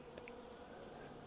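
A cluster of honey bees in a hive gives off a steady, soft, droning buzz heard up close, with no talking.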